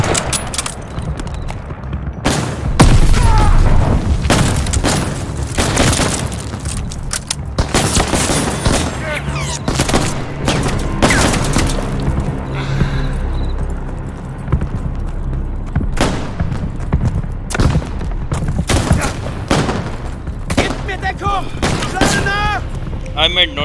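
Call of Duty Vanguard battle during Operation Tonga: repeated rifle and machine-gun bursts with heavy booms, loud and close in dense volleys, with intermittent speech and in-game shouting under the firing.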